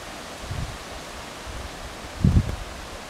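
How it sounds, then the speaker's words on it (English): Wind buffets the microphone in low rumbling gusts at Tower Rock Natural Area, with a stronger burst near the end against a steady breezy background. "it's really windy"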